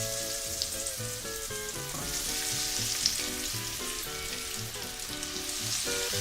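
Scotch eggs frying in a shallow layer of oil over moderately low heat, a steady close sizzle and crackle running without pause and with no talking.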